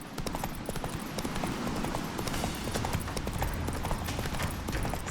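Horse hooves gallop in a steady, rapid clip-clop in The Witcher 3, loud and continuous under dense in-game ambience throughout.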